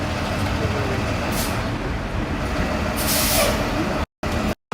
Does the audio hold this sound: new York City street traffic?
yes